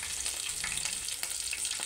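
Long-slit green chillies frying with cloves in oil in a pan for chicken curry, a constant bright crackling sizzle with small pops, close and fairly quiet.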